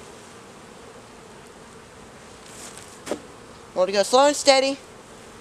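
Honeybees hum steadily around an opened, smoked beehive, a continuous soft buzz throughout, while someone speaks briefly near the end.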